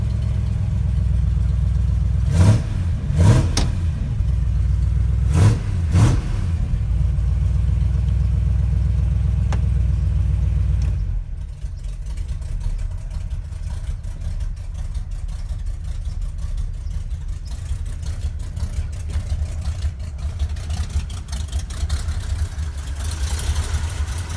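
A 1971 Ford crew cab truck's rebuilt 352 FE V8 idles with a deep, steady rumble, blipped a couple of times, then settles into a rougher, lower idle with a faint ticking from exhaust leaks at the headers.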